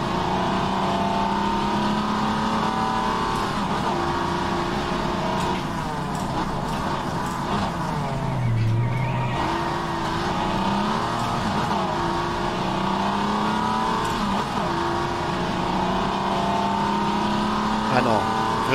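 Aussie Legends race car in the rFactor 2 racing game, its engine droning steadily and shifting pitch through gears for the whole stretch, with a voice talking over it.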